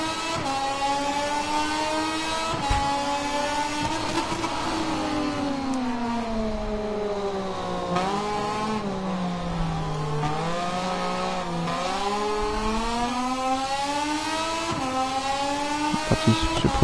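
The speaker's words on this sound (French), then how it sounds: "Parti sur ce premier secteur du circuit de Motegi." A race car laps the Motegi circuit in Japan, its engine note climbing through the gears, dipping and rising again as it brakes and accelerates, steady and close throughout with no talk.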